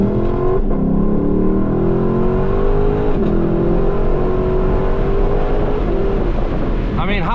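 Stock Lexus LC 500 V8 revving hard and downshifting, a loud, close engine roar with rising and falling pitch sweeps and blips across the clip, with an excited voice briefly audible.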